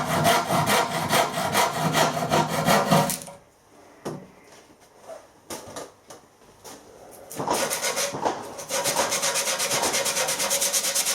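A handsaw cuts rhythmically through wood held in a tilting vise, with rapid close strokes in two bursts separated by a pause filled with light knocks and scraping.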